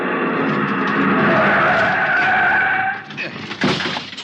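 In a vintage radio detective drama, a car brakes hard and its tires screech in one long, loud skid lasting about three seconds, then cut off into quieter street noise with brief sounds after.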